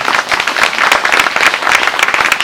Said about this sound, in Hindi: पहले ताली बजाओ एक बार यीशु मसीह के लिए